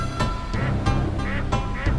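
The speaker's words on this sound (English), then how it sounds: "Ducks!" Ducks quack repeatedly in Skies of Arcadia Legends, several sharp calls at a quick uneven rhythm, close and loud over a dense background.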